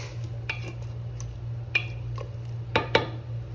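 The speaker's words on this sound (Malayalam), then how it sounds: "ഒന്ന് ഇളക്കി കൊടുക്കുക." Breadfruit curry with salt, turmeric and hot water is stirred in a pressure cooker: a handful of sharp metallic clinks and scrapes from a spoon against the pot, spaced irregularly over a steady low hum, with no talking.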